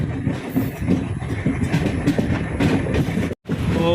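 A Konkan Railway express, the Poorna Express between Miraj and Mangaluru, runs loud and close with steady wheel rumble and rhythmic rail clatter, cutting out briefly near the end.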